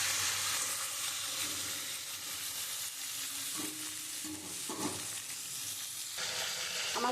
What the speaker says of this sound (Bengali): আমি লাল লাল করে পটলগুলো পুরো ভেজে নেব